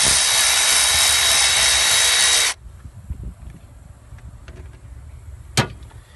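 A power tool spins loose the ignition coil nut on a 2004 Jeep Liberty V6 engine: a loud, steady whirring drone for about two and a half seconds that cuts off abruptly, followed by quieter handling noises and one sharp click.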